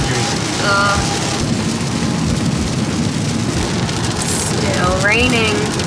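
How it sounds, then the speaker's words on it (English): Steady rain patters on a car during a winter road trip on the US East Coast toward New Jersey, a constant dense hiss filling the whole stretch with faint voices underneath. "Still raining."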